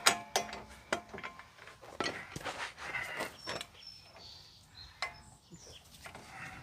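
A ratchet tightens a bolt on the CV axle of a lifted 4x4 Astro van, heard as a series of close, quick clicking bursts with brief pauses, plus faint metallic taps and handling noises.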